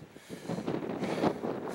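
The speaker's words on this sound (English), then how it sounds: "It's kind of windy, so sorry if you can't hear me." Gusty wind buffets the microphone in low, rumbling surges that rise and fall, steady throughout with no voices, outdoors at an old missile launch complex in Green River, Utah.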